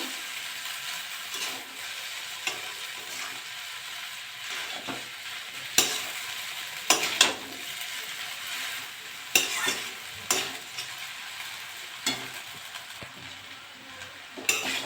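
Chowmein stirred in a frying pan: a steady oily sizzle runs throughout, broken by sharp scraping clacks of a utensil against the pan at irregular intervals, close and alone without voices.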